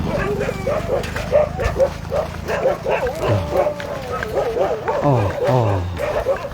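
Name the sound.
dog barking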